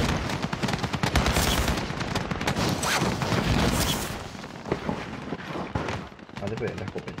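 Shotgun fire in a video game: rapid, loud bursts of blasts crowd the first few seconds, then scattered shots follow, with a voice talking over the action.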